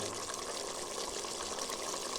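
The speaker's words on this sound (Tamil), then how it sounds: "இப்போ வந்து நம்ம இதுக்கு தேவையான தண்ணி சேர்க்கணும்." Water pours steadily into mutton cooking in a pressure cooker pan for pepper gravy, a continuous broadband gushing splash close by with no talk.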